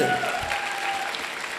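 An audience bursts into brisk, sustained applause at an event, a dense, even clatter of many hands clapping at once, filling the whole moment without a break.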